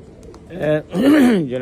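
A pigeon coos close by in a loft of extraordinary racing or show pigeons: a short rising-and-falling throaty coo, loud and alone.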